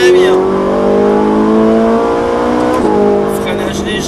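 A Ferrari 458 Italia on a circuit revs hard under full acceleration, its loud engine note climbing steadily, then dropping sharply as it brakes and shifts down, with an instructor talking over the engine.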